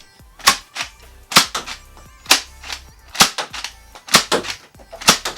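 NERF Zombie Strike Nailbiter toy blaster firing foam darts: about eight sharp, snappy pops at a roughly even pace, each with a brief mechanical clack, close and loud with no talking.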